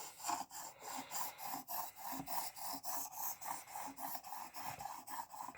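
A knife blade stroked repeatedly across a ceramic honing block on a Work Sharp Precision Adjust Elite sharpener, giving an even, rhythmic rasping scrape, roughly three strokes per second, steady and close with no talking.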